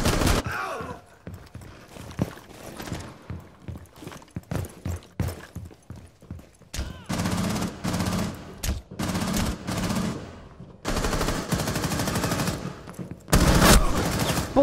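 Heavy exchanges of gunfire in Rainbow Six, with sharp single shots, shotgun blasts and sustained automatic bursts building into long loud volleys toward the end.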